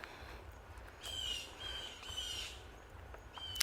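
Along the Pine Island Ridge Trail among live oaks, a bird gives a few faint, thin chirping calls in short bursts over quiet outdoor background hiss.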